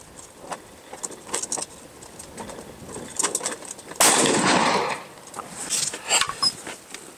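A single sharp 5.56 rifle shot fired at rifle-rated body armor outdoors, a loud crack halfway through with a brief echoing tail amid light clatter and background noise.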